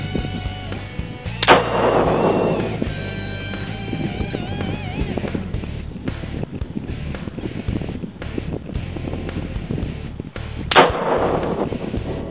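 AR-15 rifle firing .223 Remington ammunition outdoors, two loud close reports about nine seconds apart, each with a rumbling echo, over steady wind buffeting the microphone.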